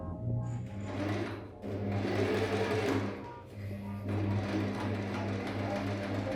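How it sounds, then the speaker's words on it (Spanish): A sewing machine runs a straight seam joining the opening of a vertical fabric pencil case to its cover, its steady motor whir carrying in close bursts with brief pauses between runs. "lo que vamos a hacer entonces es pasar una costura recta uniendo la boca de la cartu con la funda"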